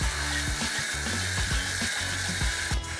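A loud, continuous hiss of spraying water sounds up close, with low rumbling and uneven splashing underneath.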